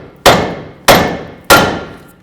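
A hammer strikes a 2000-2007 Ford Focus tie rod end three times at an even pace, each blow a sharp metallic crack with a short ringing decay, loud and close.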